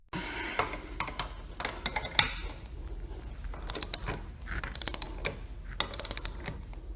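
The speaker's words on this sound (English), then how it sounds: "The torque wrench is applied to a bolt and it clicks." A torque wrench tightens bolts while replacing a gasket, giving a series of close metallic clicks and ratcheting ticks in uneven bursts with faint tool clatter between them.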